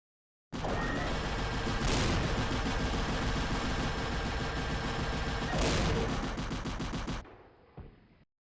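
A motorized 3D-printed model of the Avenger Gatling cannon fires in one long, dense, rapid rattle of shots lasting several seconds, loud and close, then stops abruptly with a faint clatter afterward.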